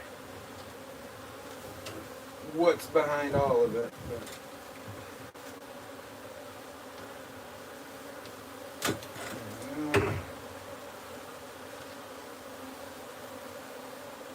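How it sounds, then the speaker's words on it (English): Honey bees from a wild hive moved into a new home, a faint, steady buzzing drone throughout, with someone talking briefly twice over it. "I do see a lot of drones still walking around too, and they're going around eating up a lot of the spilt honey"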